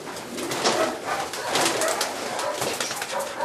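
Pigeons of Vandenabeele lineage cooing in a racing-pigeon loft, a dense chorus of overlapping low, throaty coos repeating steadily throughout, with no one speaking.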